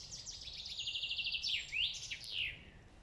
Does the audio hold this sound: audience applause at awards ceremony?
no